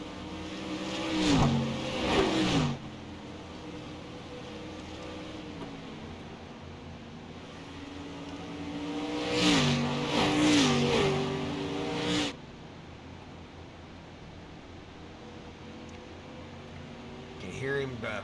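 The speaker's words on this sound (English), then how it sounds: "Hear him feathering that throttle a little bit around the outside as he got up there close to the wall." A street stock race car in an HHR Racing Series race runs with its engine note rising and falling, the driver feathering the throttle through two clear surges while the car runs high near the wall, with a lower engine drone between them.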